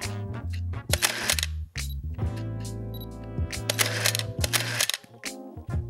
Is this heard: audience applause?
no